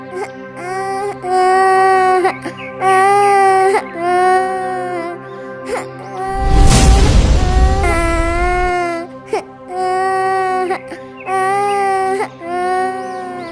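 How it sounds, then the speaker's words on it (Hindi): An infant cries loudly and close in a dense forest, with repeated wavering wails and whimpers in a steady rhythm, broken midway by a brief rushing whoosh before the crying resumes. "इस घने जंगल में बच्चे के रोने की आवाज।"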